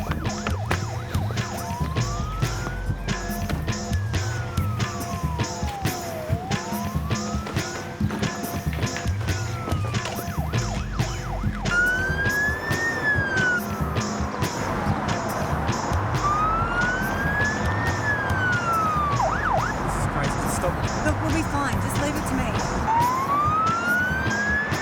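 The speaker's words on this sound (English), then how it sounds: "That could be an ambulance." An emergency vehicle siren wails in a slow rising and falling sweep, repeating steadily at mid distance over traffic rumble and background noise.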